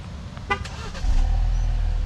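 A RAM Rampage Rebel gasoline pickup, locked, starting by remote start: a short horn toot, then the engine turning over and settling into a steady low idle close by.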